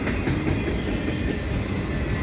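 A CN auto rack freight train passes at Dorval on a Sunday afternoon, producing a steady loud rumble and rhythmic clickety-clack of wheels on rails, close by and continuous.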